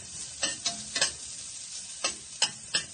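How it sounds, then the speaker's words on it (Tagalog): Garlic frying in hot oil in a pan, a soft steady sizzle punctuated by several sharp clattering stirs at irregular intervals, close and without talk. "Tapos, lagay natin yung garlic. Until slightly golden brown lang siya guys."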